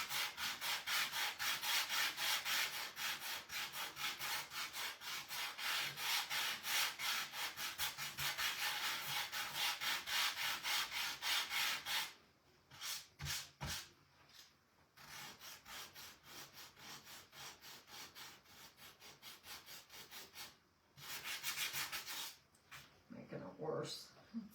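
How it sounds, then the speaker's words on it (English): A sander is run lightly over wood in a craft workshop, giving a steady, close rubbing hiss for about twelve seconds, then shorter bursts with pauses between them. "To lightly take my sander and go over it, smooth that out a bit."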